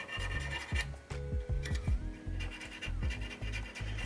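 Fine 600-grit sandpaper rubbed over the drop targets of a 1974 Williams Star Action pinball machine, a steady close scratching in short repeated strokes with no talk.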